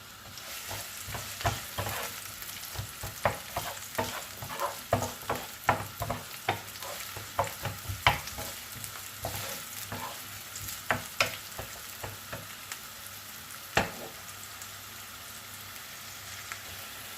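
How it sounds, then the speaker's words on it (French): Chopped onion pieces sizzle in hot oil for tacos while a utensil stirs them in the pan, giving a steady frying hiss punctuated by frequent sharp scraping and clacking strokes, close and fairly loud, with no talk. "Et on va rajouter des oignons coupés, des petits morceaux."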